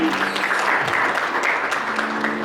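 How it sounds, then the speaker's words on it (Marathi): Audience applause for teachers at a school Ashadi Ekadashi celebration, a steady, dense burst of clapping from a crowd lasting throughout, with faint voices underneath. "त्या सर्व शिक्षकांसाठी सुद्धा एकदा जोरदार टाळ्या."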